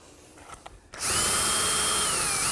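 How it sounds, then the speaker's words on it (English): A few quiet clicks, then a power drill starts up and whines steadily at high speed, close and loud, pre-drilling into wood for a tilt top table. "Now I'm pre-drilling, making sure I don't come through the other side."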